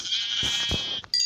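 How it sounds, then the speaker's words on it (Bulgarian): A Minecraft sheep bleats in one long, nasal, wavering cry, loud and close, followed by a brief second bleat after a short gap, with no talk over it. "Ей, овца."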